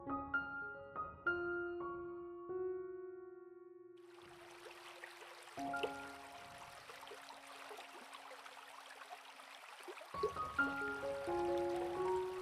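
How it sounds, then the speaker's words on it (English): Water trickles gently from a Hacienda-style courtyard garden water feature, a soft continuous splashing that emerges beneath calm, sustained tonal music, faint and steady in the background. "This is where the acoustic magic of a Hacienda water feature comes into play."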